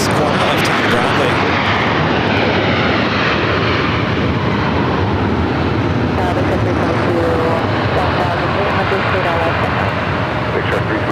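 A Qantas airliner taxiing at Los Angeles International Airport toward the Tom Bradley terminal, its jet engines producing a loud, steady roar with wind buffeting, while a voice talks over it.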